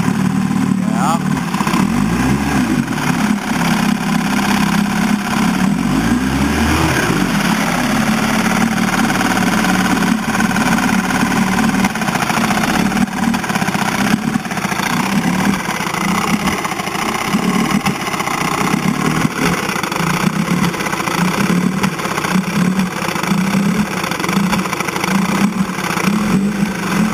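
A vehicle engine idles roughly while in gear, a loud, close, continuous uneven rumble throughout, with people talking over it.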